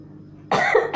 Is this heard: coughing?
yes